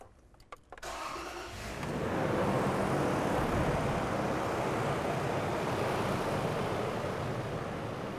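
A car engine with a cam/crank timing fault (code P0016) fires up after a second of quiet and settles into a steady, broadband idle that stays loud and even to the end, with no talking over it.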